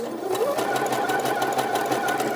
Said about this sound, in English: So select your zigzag stitch and go all the way around the bottom of your skirt.